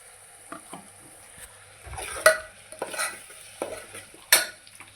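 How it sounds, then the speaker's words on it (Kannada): Ground coconut masala fries in hot tempering for avarekalu sambar, with soft sizzling under repeated scraping and clinking strokes of a spoon against the pan, near and moderately quiet, with no voices. "ಇದನ್ನು ಚೆನ್ನಾಗೆ ಫ್ರೈ ಮಾಡ್ಕೋಬೇಕ್ರಿ."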